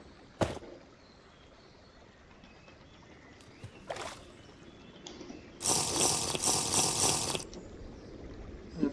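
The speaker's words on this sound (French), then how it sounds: "On boit dans l'eau de la petite rivière." Drinking water from a small river in the video game RLcraft, a wet splashing and gulping burst of about two seconds, preceded by a couple of short sharp clicks, with no talking.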